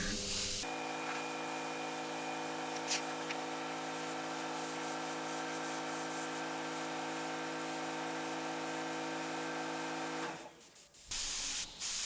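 An airbrush spraying paint onto a dragon artwork gives a steady, close, continuous hiss of air for about ten seconds before cutting off abruptly, with no talk.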